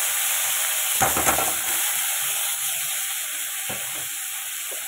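Two tomatoes drop into hot oil seasoned with five-spice seeds for chutney. A continuous hiss of frying swells into a brief louder crackling burst as they hit the pan, then settles into a steady sizzle with a couple of soft stirring knocks.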